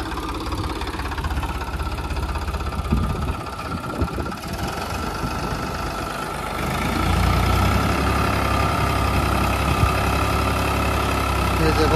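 A Mahindra tractor with a dead battery, tow-started behind another tractor on a farm, runs as a steady diesel engine idle with a knocking rumble. The rumble thickens and gets louder about halfway through and stays continuous to the end.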